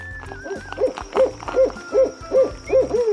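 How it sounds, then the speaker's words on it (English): An owl hoots in a steady series of about seven evenly spaced, clear calls over a soft rhythmic background beat. "Owl,"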